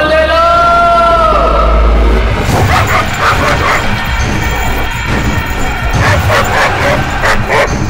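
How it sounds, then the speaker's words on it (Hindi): A dog barks and yips repeatedly in a domestic scene, the barks clustered in bursts over a loud, dense film soundtrack with some tonal music at the start. "ये आखिर इतना क्यों भौंक रहा है?"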